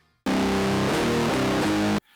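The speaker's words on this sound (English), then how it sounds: "if you've ever heard a guitar head without a cabinet, it sounds terrible." Electric guitar amp head played straight without a speaker cabinet, a harsh, fizzy, unfiltered distorted tone with bright top end, a short burst of a few chord changes lasting under two seconds.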